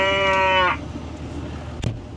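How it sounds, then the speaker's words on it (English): A hungry cow gives one long, loud moo up close at the start, followed by quieter barn ambience and a brief faint thump. "Time to chores. Cows are hungry."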